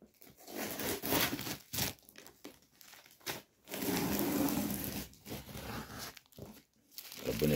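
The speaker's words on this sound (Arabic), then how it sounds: "هنفتح الكرتونه دي." A cardboard carton holding twelve bags of Lulu Puffs chili-lemon snacks is torn open, with close, loud bursts of crinkling and ripping cardboard in irregular spurts separated by brief pauses.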